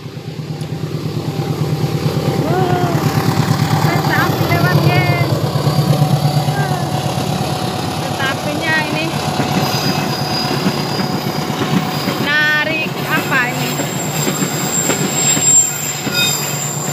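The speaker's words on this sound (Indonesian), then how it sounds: "Kebetulan lewat nih kereta api." A train passes close by, its wheels rumbling and clattering over the rails with high metallic squeals, loud and continuous throughout.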